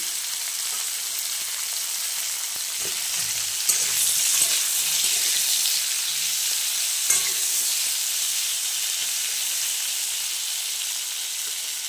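Steady, close frying sizzle of potato pieces cooking in hot oil, with occasional stirring clicks and scrapes over a continuous bright hiss.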